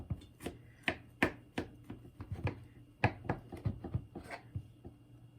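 Knife slicing through a homemade banana cake studded with chocolate chips, a dozen or so soft, crisp cuts landing in an uneven rhythm, close and fairly quiet with no voices.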